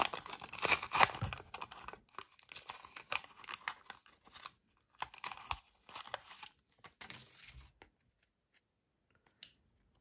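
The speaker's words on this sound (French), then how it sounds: "Donc on ouvre le booster." Crinkly foil of a McDonald's Pokémon booster pack crackles and tears close up in quick bursts, then gives way to a few sparse rustles and near silence.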